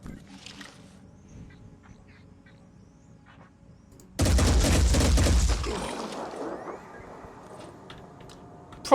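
Gunfire in the Phoenix Point tactical video game: one loud, dense burst of shots lasting about a second and a half mid-clip, set against a quiet, low background.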